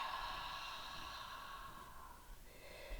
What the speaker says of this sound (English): exhaling through your mouth, letting it all out